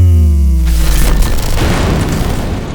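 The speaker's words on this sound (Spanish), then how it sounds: "Esta explosión dejó a todo Puerto Rico a oscuras en abril." A loud explosion that cut power across all of Puerto Rico in April erupts in a single deep boom, then rolls on as a sustained rumbling roar that fills the rest of the moment, with no voices.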